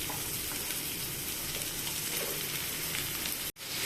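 Mutton frying with potatoes, onion and chili in a pan makes a loud, continuous close sizzle that cuts out for an instant before resuming.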